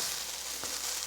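Hash browns frying in a pan, a steady dense sizzle with one faint scrape partway through, no voices.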